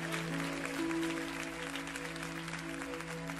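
A church congregation claps steadily for several seconds, the dense applause backed by sustained organ or keyboard tones.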